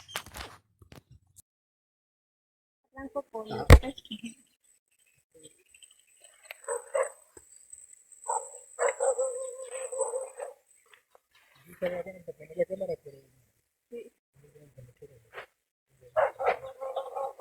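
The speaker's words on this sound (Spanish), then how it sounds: "como ahora vemos el ataque de un perro a un venado de cola blanca" A dog attacks a white-tailed deer in a protected natural area, giving a few sharp barks and scuffling bursts spread across the stretch, with quieter gaps between and a faint bird in the background.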